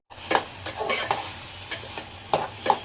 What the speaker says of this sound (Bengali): ডালটা ভালো মতো ভাজা ভাজা হয়ে গেছে